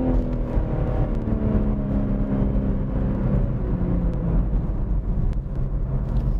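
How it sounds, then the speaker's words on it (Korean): A BMW M3 Touring wagon with a 510-horsepower engine accelerates hard, its engine note loud and steady throughout, rising in pitch as it pulls through the gears with continuous road and wind roar. "가속 너무 빠르고"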